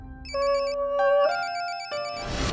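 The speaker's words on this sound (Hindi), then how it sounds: "सर आपका फोन बज रहा है सर।" A mobile phone ringtone plays alone in an indoor scene, a repeating electronic melody of bright beeping tones that steps up in pitch, moderately loud and close, with a rising noisy swell near the end.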